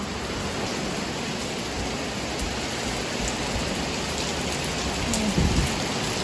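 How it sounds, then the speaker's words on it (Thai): Steady rain pours down on a surface in a rural Thai setting, a dense even hiss of drops lasting throughout, with a brief louder patter near the end and no talking. "อากาศฝนตกเนาะ"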